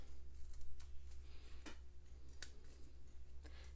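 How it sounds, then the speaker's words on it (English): Scissors trimming the edges of cardstock, a few faint, crisp snips spaced irregularly over a steady low hum, with no voices. "Trim off those edges."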